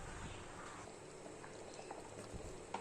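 Quiet, steady bubbling and soft popping of green peas and potato kurma gravy simmering in a pot over a medium flame, faint and continuous with occasional small blips.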